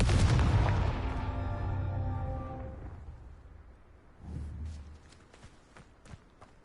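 A Confringo fire spell going off in a wizarding game: a loud whooshing burst with a ringing, fading tail. A second, softer thud follows with light clicks after it.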